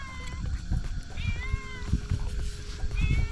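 A cat meows repeatedly at a campsite, with several short, clear mews close by over a background of rustling and outdoor noise.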